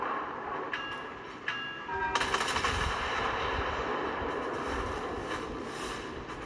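Naval guns firing from the battlecruiser Repulse in World of Warships, with a few short tones, then a heavy salvo that breaks into a sustained rumbling roar with scattered thuds behind it.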